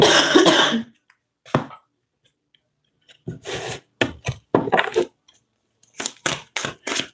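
A person coughs and clears their throat repeatedly during a live tarot reading broadcast, in short, sharp bursts separated by silent gaps, close and fairly loud.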